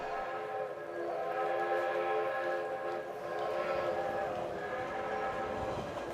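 A passenger train pulling out of a station in a 1934 Hollywood mystery drama, steady rolling rumble with sustained tonal whistle-like harmonics throughout, moderately loud and continuous.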